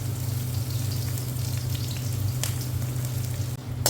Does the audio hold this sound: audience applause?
no